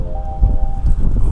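Low, steady wind buffeting outdoors in a yard during metal detecting in Kentucky, a rumbling roar that swells partway through.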